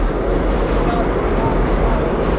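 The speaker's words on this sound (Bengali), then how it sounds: "ওই দিক দিয়ে দেখো দেখতে পাচ্ছ ট্রেন যাচ্ছে মালগাড়ি" A goods train rolls past at a distance near Khirai, heard as a loud continuous low rumble without clear breaks, while a person talks over it.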